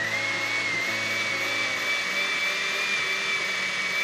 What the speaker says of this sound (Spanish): Vamos a licuar perfectamente.